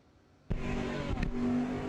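A Camaro and a 1963 Corvette launch off the line at a drag race, a sudden loud roar of engines that bursts in and stays at full, steady intensity, with a brief extra surge partway through.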